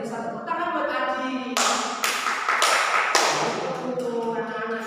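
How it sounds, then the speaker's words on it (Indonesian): A classroom of students bursts into applause for a classmate, a dense clatter of clapping lasting a couple of seconds, with a teacher's voice talking before and after it. "Tepuk tangan buat Adi."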